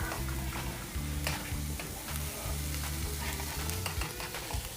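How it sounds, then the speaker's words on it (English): A honey glaze for salmon cooks down and reduces in a pan on low heat, giving a steady close bubbling sizzle with occasional utensil taps and stirring. "you want this to cook down and reduce, cause it's a glaze"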